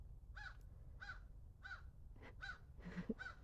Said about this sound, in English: The birds say good morning too.